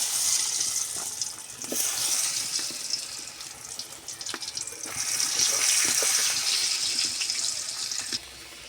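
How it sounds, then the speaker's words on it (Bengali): Potatoes fry in oil left from cooking chicken, giving a loud, continuous close-up hiss that swells and eases, with occasional crackles and brief clatters. "ওই তেলে আলুগুলা ভেজে নেব।"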